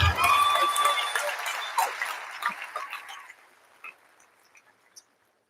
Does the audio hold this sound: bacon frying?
no